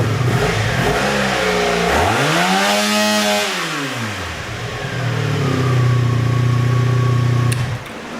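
Honda Sabre motorcycle engine revs up and back down in one loud, close sweep, then settles into a steady, rough idle before cutting off near the end.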